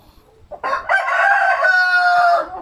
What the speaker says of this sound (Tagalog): Ay nako, mga manok na ito, kung saan lang sila nangingitlog.